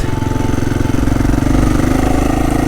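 An enduro motorcycle on a dirt track, its engine loud and close with a steady, rough throbbing drone that holds at a constant pitch the whole time.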